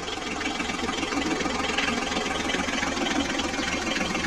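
Toy truck engine rumbling steadily at a low, even level, with a knocking mechanical texture and no talk over it.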